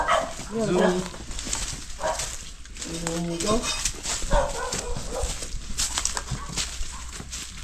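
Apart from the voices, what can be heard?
dog barking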